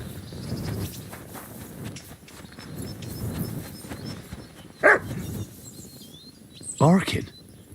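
Dog barking in the video game Kingdom Come Deliverance II, two short bursts of barks a couple of seconds apart rising over a murmur of village ambience and footsteps.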